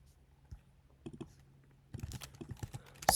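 Someone types on a computer keyboard: scattered soft clicks that turn into a quicker burst of keystrokes, close and quiet, with no voices.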